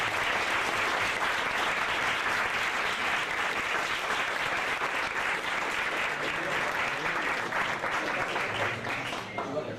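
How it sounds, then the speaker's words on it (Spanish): Sustained applause from a youth debate audience fills the room without pause, steady and dense for nearly ten seconds before tapering slightly at the very end. "darles un aplauso a los 4 representantes juveniles"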